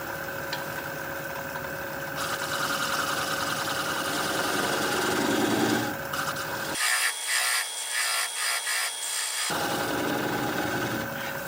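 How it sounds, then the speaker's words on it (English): A 3/8 inch swept back gouge cuts away the tenon on a live edge hawthorn bowl spinning on a wood lathe, a steady close scraping hiss over motor hum, with a rougher stuttering burst of cuts in the middle. "Now I'm going to switch to this 3/8 inch swept back gouge. to finish removing the tenon."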